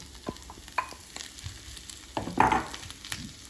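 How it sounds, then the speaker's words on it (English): Onions and mushrooms sauté in a pan, with soft sizzling under scattered scrapes and clacks from stirring. The utensil strikes are irregular, and one louder burst comes near the middle. No one speaks. "So the onions saute, they're a little bit brown. I'm adding the mushrooms."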